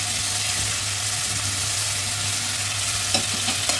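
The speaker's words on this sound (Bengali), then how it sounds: "একটু আদাটা ভেজে গেলে আমি এতে দিয়ে দেবো গোটা ধনে, গোটা জিরে আর গোটা মৌরি।" Ginger frying with whole coriander, cumin and fennel seeds in hot oil for a Bengali banana-flower kofta, a steady close sizzle with faint stirring clicks near the end.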